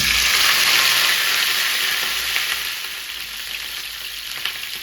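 Cauliflower dropped into hot oil sizzles with a loud, steady, close hiss that eases slightly partway through, with no voices over it.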